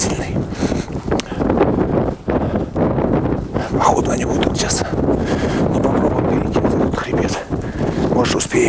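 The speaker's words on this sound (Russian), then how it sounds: "Ветер начался сильный." Strong mountain wind during a hunt in the Tajikistan mountains, a steady rough gusting rush buffeting the microphone, loud and close, with intermittent gusts throughout.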